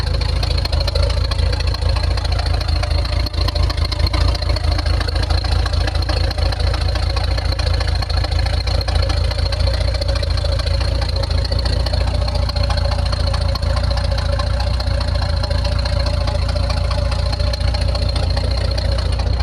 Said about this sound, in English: I can't believe it's idling.